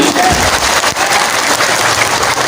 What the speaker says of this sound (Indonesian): Hati nurani, tepuk tangan.